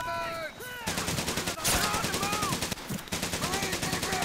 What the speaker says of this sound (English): Get that fucking submachine gun out again.